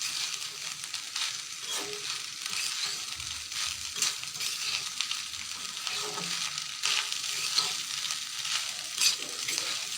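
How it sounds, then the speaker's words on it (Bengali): Leftover rice being stirred and fried in a pan, a continuous close sizzle with repeated scraping and clinking of a spatula, no talking. "দিয়ে নেড়ে ছেড়ে এভাবে ভাতটাকে ভেজে নামিয়ে নেব।"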